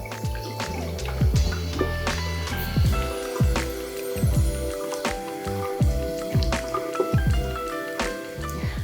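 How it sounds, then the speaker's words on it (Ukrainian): Hands splash water over the face and neck, giving repeated wet slaps, drips and squishy rubbing at close range in a steady rhythm. "Дуже добре миємо обличчя та шию."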